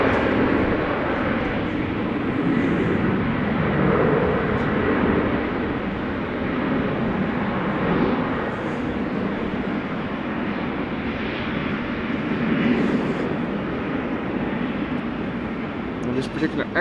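A KLM passenger jet takes off from a runway at Amsterdam Schiphol Airport in the background, a continuous broadband engine roar heard at a distance while a voice talks over it.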